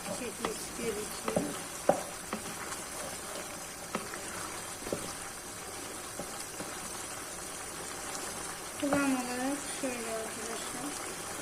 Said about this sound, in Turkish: Makarnamızı karıştıralım.